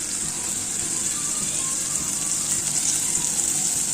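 Water pours steadily into a pan of cooking spice masala with a constant, even gushing hiss that runs the whole time, no voices.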